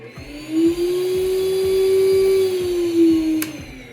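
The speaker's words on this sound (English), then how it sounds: "And my vacuum is technically a dentist vacuum" A dentist-style vacuum in a cosplay workshop, used to collect metal dust, whirs up to a steady high-pitched whine, holds it close and loud for a few seconds, then winds down, with no talk.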